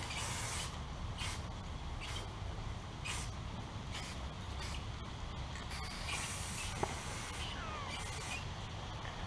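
Black and silver spray paint hissing onto a Nerf blaster in repeated short bursts, each spritz a soft airy rush over a steady background hum, with one faint click near the end.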